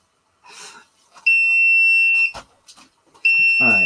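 Alarm on a small tabletop egg incubator set up for hatching button quail, sounding two loud, piercing steady tones of about a second each, close by, separated by brief quiet rustling.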